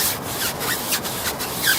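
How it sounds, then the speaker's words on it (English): A scrubber brush working cleaner foam on a car tyre, heard as a close, rhythmic back-and-forth rubbing and scratching, about four strokes at an even pace. "all we're going to do now is just agitate this with the scrubber."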